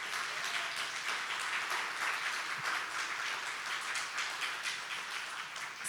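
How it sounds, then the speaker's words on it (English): Sustained applause from a sizable audience, steady and fairly loud throughout, with no voices standing out. "Can we all give them a round of applause?"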